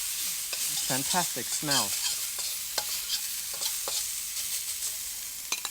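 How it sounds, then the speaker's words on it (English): Spring onions sizzle hard in a wok for black bean chicken stir fry, a loud continuous frying hiss with quick stirring scrapes, while someone speaks briefly over it. "Stir that around very quickly, because I don't want this to burn."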